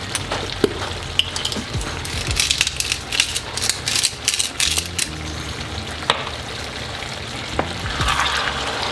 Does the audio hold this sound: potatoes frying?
yes